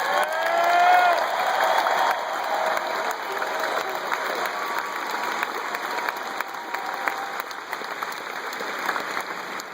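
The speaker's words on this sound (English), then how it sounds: "I think he deserves a round of applause" A rally crowd gives a sustained round of applause, loudest at the start then settling into steady dense clapping that carries on throughout, with no voice over it.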